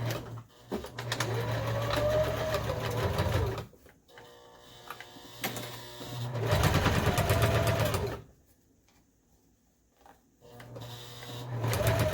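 A sewing machine runs in long steady stitching bursts along a quarter-inch seam on a fabric front panel, pausing between runs, with a softer mechanical hum in the gaps.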